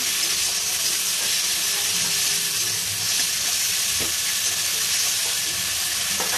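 Ginger paste frying with hen legs and wings in a pan, a steady loud sizzle and hiss running throughout with faint scraping stirs underneath, no voices.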